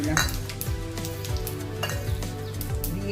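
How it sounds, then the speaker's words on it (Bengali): Mustard seeds and dried red chillies crackle and sizzle in a little hot oil, a dense close spatter with frequent pops and occasional utensil clinks, no voices. "এখন আমি এই সর্ষেটা আর শুকনো লঙ্কাটা ফোড়ন দিয়ে"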